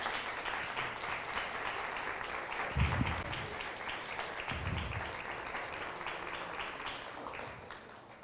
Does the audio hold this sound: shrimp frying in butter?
no